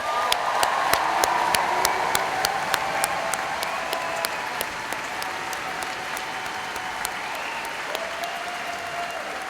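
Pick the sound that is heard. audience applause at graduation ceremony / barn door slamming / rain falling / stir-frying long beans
audience applause at graduation ceremony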